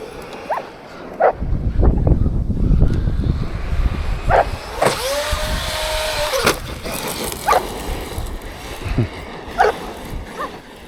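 A Traxxas Maxx V2 RC car's electric motor whines up and down as it drives, with a dog barking and yipping intermittently around it outdoors.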